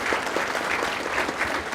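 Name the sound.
audience applause at graduation ceremony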